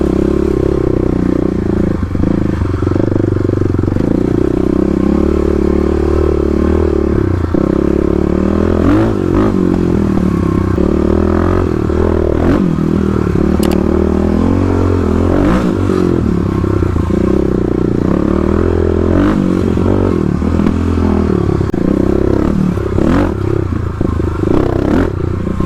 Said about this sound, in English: This one, just lug right up it on the KLX.